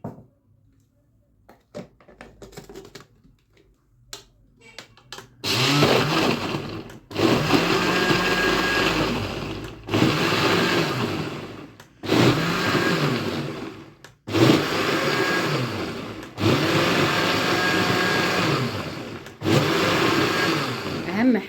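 A blender whirring loudly in repeated bursts as it purees orange pieces for orange cake batter, each run a few seconds long with short pauses between, after a quieter stretch of small kitchen knocks.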